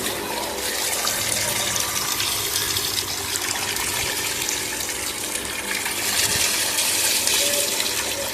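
Dirty drainage water gushing from a household tap in Hyderabad, a steady broad rushing stream of water running continuously at close range without speech.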